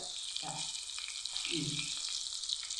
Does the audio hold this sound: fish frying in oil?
yes